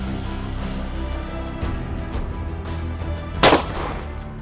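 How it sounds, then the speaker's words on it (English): Beretta AX800 semi-automatic shotgun firing a single sharp report at a clay shooting ground, standing out against steady background noise. "Shooting it sat down, shot it well."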